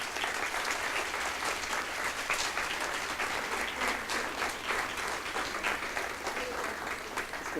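An audience at an art awards presentation claps steadily and loudly, a dense continuous roar of hand claps filling the whole stretch with no pauses.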